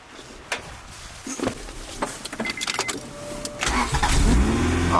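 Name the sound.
Honda Integra engine cold starting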